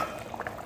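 Ivy gourd kara kuzhambu, a spicy tamarind curry, bubbles in a pot on the stove, giving a brief, soft, steady simmer with small pops.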